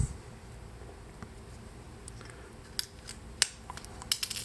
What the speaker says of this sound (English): Cut a little strip there.